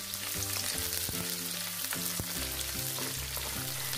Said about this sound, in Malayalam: സവാള ട്രാൻസ്പെറൻ്റ് ആവുന്നത് വരെ വഴറ്റിയാൽ മതി.